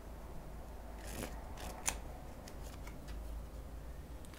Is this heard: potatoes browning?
no